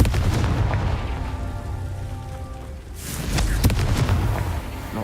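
A Confringo blasting spell explodes in Hogwarts Legacy. A hissing, rain-like crackle runs under it, a quieter stretch follows, then a sudden loud burst lands about midway and rumbles on.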